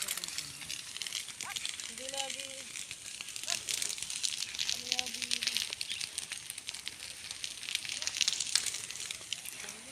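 Fire burns outdoors beside cashew trees, a continuous crackling hiss that runs the whole time beneath a voice.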